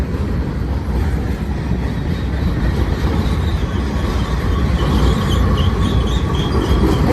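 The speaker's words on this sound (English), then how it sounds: "Truly a mixed manifest train." A Union Pacific mixed manifest freight train rolls past at Cajon Pass: a steady, loud, continuous rumble of wagons and wheels with faint high squeals, no voices.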